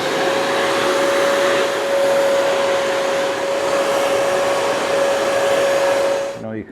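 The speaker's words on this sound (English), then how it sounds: "you combine a little brush action, a little vac action" A small handheld vacuum with a brush attachment cleans dust off a Delta 18-900L drill press, giving a loud, steady motor whine with a high tonal hum that holds constant before switching off abruptly at the end.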